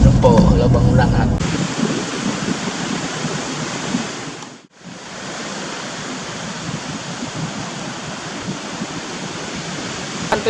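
Ocean waves at Batu Karas beach wash in as steady, broadband surf with wind noise, loud and continuous apart from a brief dip near the middle; a short stretch of talk or other sound opens the recording.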